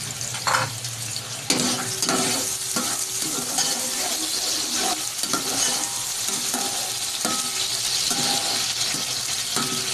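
Chopped onions frying in hot oil for chicken biryani: a loud, steady sizzle, close up, broken by scraping stirs and small metallic knocks of a spoon against the pan, with no talking.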